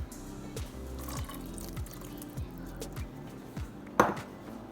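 Water poured into a mixing bowl of mashed overripe bananas for banana bread, a soft continuous trickling and splashing, close and quiet, with a brief louder splash near the end.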